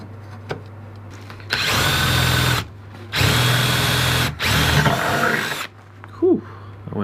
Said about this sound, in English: drilling holes in sheet metal like this